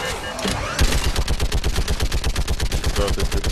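Rapid automatic weapon fire in Mass Effect, a steady fast rhythm of loud, close shots running without pause for several seconds, with a voice faintly underneath.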